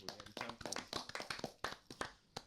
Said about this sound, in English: Everybody, let's clap for Liverpool.